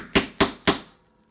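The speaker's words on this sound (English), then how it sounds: "I'm just going to line up my punch on the hole and use the little" A small hammer taps a metal hole punch through calendar paper, giving three sharp, evenly spaced strikes close by, each with a short ringing tail, and no voices.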